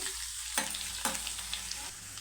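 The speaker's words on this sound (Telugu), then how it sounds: "తాలింపు వేగాలి" A tempering of crushed garlic and red chili fries in hot oil for an old-style cucumber tamarind chutney, a constant bright sizzle close by, broken by a few sharp spatula scrapes and stirs.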